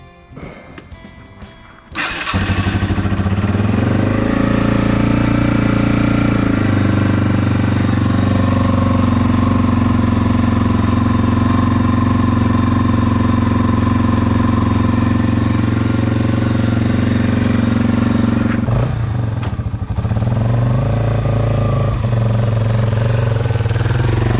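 A Yamaha TW200 motorcycle engine catches and runs loud and steady right after a quick start, a low thumping idle that holds for about twenty seconds with a brief dip before settling again.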